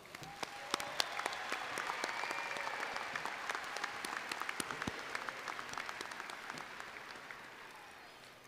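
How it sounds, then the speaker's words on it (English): A large graduation crowd applauds teachers, staff and administration at a high school ceremony, steady dense clapping held at an even level for several seconds. "So please give them a round of applause."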